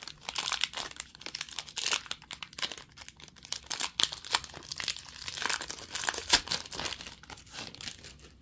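Crinkly plastic wrapper of a retail trading card pack being opened and pulled apart, a close, busy run of crumpling and tearing rustles.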